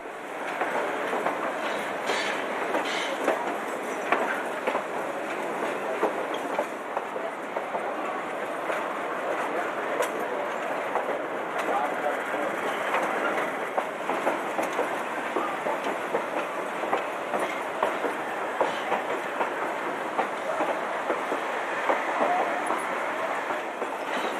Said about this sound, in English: After leaving Rockwood, the train traverses the most scenic portion of the line, the high line above the Animas River